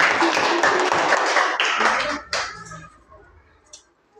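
A classroom of pupils bursts into quick, overlapping hand claps that keep up for a couple of seconds, then thin out to a few scattered claps and fade into quiet.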